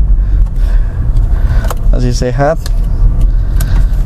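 A steady low engine and road rumble fills the cabin of a second-generation Honda CR-V while it is driven. The noise stays muffled and constant beneath a brief spoken comment.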